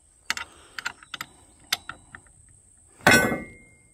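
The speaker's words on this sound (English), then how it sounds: "The first step is to remove the four screws shown." Screws are being removed from a chainsaw rack piece, giving a series of sharp, close metallic clicks and ticks in irregular bursts, then a louder scraping rattle near the end.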